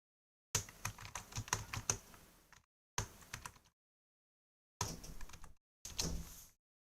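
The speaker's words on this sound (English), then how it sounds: "I'm typing right now." Someone types on a computer keyboard in several short bursts of quick, close key clicks, with silent gaps between them and nobody speaking.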